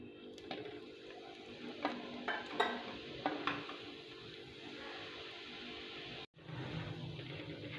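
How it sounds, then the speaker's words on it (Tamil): Roasted gram (pottukadalai) being dry-roasted in a pan, with a faint sizzle and light scraping and ticking of stirring against the metal, close and quiet. "பொட்டுக்கடலையும் நல்லா வறுபட்டுடுச்சு."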